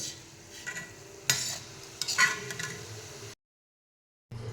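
Wheat flour gulab jamun being fried and stirred in hot oil, soft sizzling with scraping stir strokes and a few utensil clinks, close up, then a brief gap and a return of the frying.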